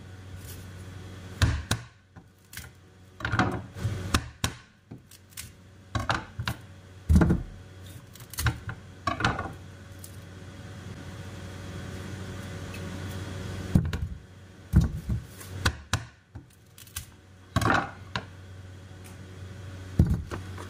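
Hard vegetable being chopped with a knife on a board at home, a series of irregular sharp chops and thuds, some in quick clusters, over a steady low hum, with no talking.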